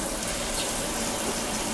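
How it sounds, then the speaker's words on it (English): Pasta water pours from a pot through a colander into a kitchen sink, a steady close rushing splash of running water that continues evenly throughout with no talk over it. "Drain the water off through this colander."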